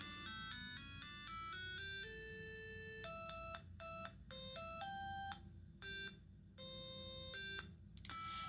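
A video game theme plays as bright electronic square tones through a small compact automotive speaker driven by a little amplifier, a clear, quick melody of separate beeping notes with short gaps between phrases.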